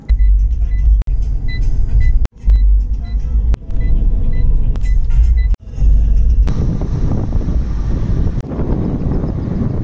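A car climbs a mountain road in East Sikkim toward Hanuman Tok, its cabin filled with loud continuous engine and road rumble, broken by a few sharp thumps from bumps and jolts.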